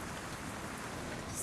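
Steady rain pours in Zenless Zone Zero, a dense, even hiss with a soft patter of drops that holds at a constant close level from start to finish, with no voices over it.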